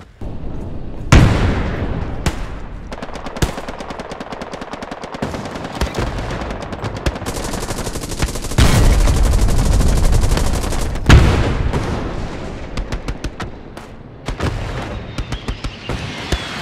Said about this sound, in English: There's our artillery.